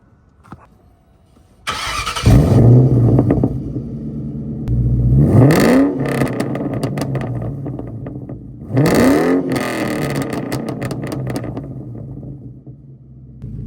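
A 1999 Ford Mustang GT V8 with a catless exhaust cold-starts close by, cranking and firing up, settling into a deep rumbling idle with two sharp, throaty revs rising and falling.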